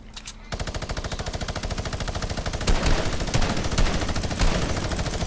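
Rapid automatic gunfire in a shooter video game, a continuous fast-rhythm stream of loud close shots after a short pause, with a few heavier bursts mixed in.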